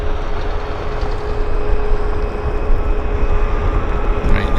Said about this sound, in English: Got a WestJet taxiing out,